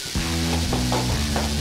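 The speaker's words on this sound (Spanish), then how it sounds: "¡Has estropeado nuestra máquina de café!" A broken coffee machine makes an odd noise: a steady, droning, buzzy hum with short rising bursts that repeat every half second or so. It is fairly close and heard alone.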